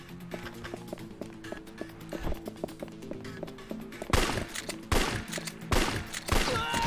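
Gunshots ring out in Yakuza 3, a run of sharp cracks that grows louder and denser toward the end, set over rhythmic game music and effects.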